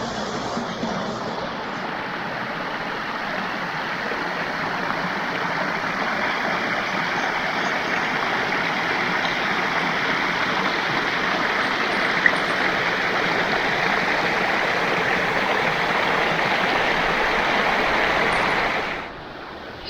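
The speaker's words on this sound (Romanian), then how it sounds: "Și am ajuns și la cascade." A mountain waterfall and stream pour in a steady, full rushing roar, close and constant for the whole stretch with no speech, easing off only at the very end.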